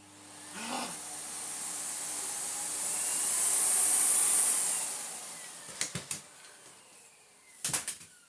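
Miele Revolution Powerplus S5980 vacuum cleaner running after a hose swap, a steady airy whoosh with a high whine swelling and easing, followed by a few sharp clicks and knocks near the end.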